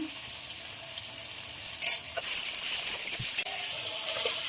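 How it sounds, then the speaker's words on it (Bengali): Shrimp fry in a pan with turmeric and salt, giving a steady, close hiss of sizzling oil with a few brief clatters and pops along the way. "তো চলো তার আগে চিংড়ি মাছটা ভেজে নিই। হলুদ দেবো, নুন।"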